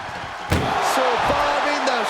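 Heavy ambulance door slammed hard during an NXT Halloween Havoc wrestling match, one loud impact followed by metallic ringing and further knocks as it is forced shut amid arena crowd noise.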